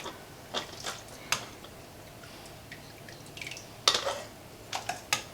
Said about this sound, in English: I'm gonna use a slotted spoon to put my beans in my jars